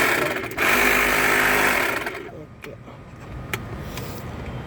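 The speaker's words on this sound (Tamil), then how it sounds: "இப்போ டயர் இன்ஃப்ளெக்டரையும் நம்ம செக் பண்ணி" A car 12V tire inflator runs with a loud, dense mechanical buzz for about two seconds, then cuts off. A few faint clicks and handling noises follow in a quieter interior, and a voice speaks nearby.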